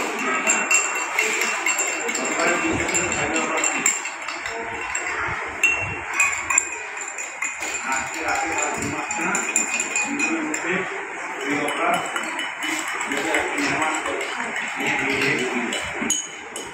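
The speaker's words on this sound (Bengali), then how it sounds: "এবার দ্রবণটাকে ভালোভাবে মিশিয়ে নেব।" Lime solution stirred in a glass, with repeated light clinks of the stirrer against the glass and scraping swirls, close and continuous, under a background hiss.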